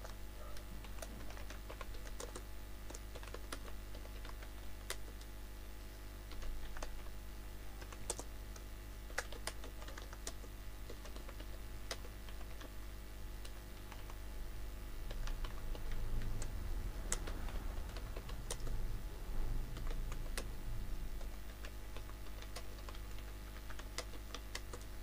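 Soft, irregular clicking of keys as text is typed on a computer keyboard, faint and close, under a constant hum of room noise.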